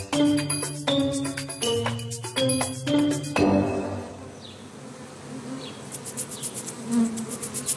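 Honey bees buzz around a beekeeper's colony, a dense droning hum with fluctuating bursts that start loud and close, then thin into a softer, more scattered buzz with occasional higher whines passing by.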